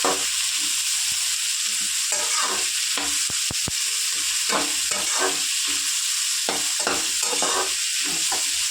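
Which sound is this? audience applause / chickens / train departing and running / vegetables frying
vegetables frying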